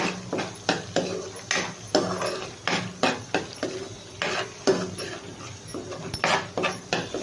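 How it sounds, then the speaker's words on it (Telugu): A spoon stirs garam masala into a potato and rajma curry in a pan, scraping and knocking in a quick, irregular rhythm of close clatters, with no voices. "ఒక టేబుల్ స్పూన్ వచ్చేసి గరం మసాలా ఇవి మనం ఇప్పుడు మిక్స్ చేస్తాం"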